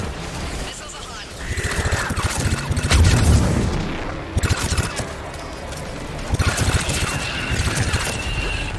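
Missiles fire in Mass Effect 3, a series of booming launches and explosive thuds layered over rumbling battle noise, with game voices talking between the blasts.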